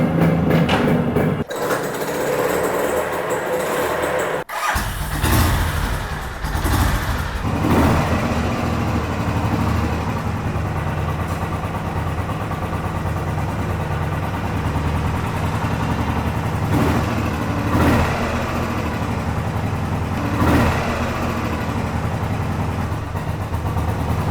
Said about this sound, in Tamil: ஸோ வெஹிக்கிள் இப்போ ஸ்டார்ட் பண்ணி பார்ப்போம்.